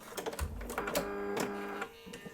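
A home sewing machine runs a short burst of locking stitches on a quilt block, a close rapid mechanical whirr with a brief pause and final clunks before it stops.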